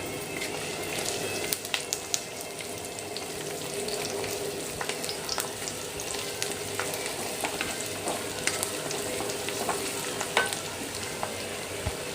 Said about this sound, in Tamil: பூண்டு போட்டு பொறிச்சிக்கணும்